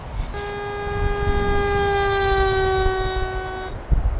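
A loud, sustained truck horn in the American Truck Simulator video game holds a steady multi-tone blast for about three and a half seconds over a low engine rumble, then cuts off.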